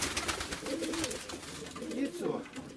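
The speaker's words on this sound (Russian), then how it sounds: "Второй сидит голубь, вон." A pigeon coos softly in a cold winter setting, low rounded calls repeating a few times over steady background noise and rustling, with no speech over it.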